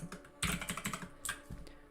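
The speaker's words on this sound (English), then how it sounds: "I'm typing very fast right now." Fast typing on a computer keyboard, a rapid stream of close clicky keystrokes with a few louder bursts, no talking.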